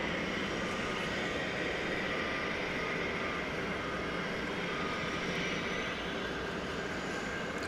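A distant EVA Air Cargo freighter arriving at DFW Airport from Anchorage, its engines a steady, faint broadband rumble with a soft whine throughout.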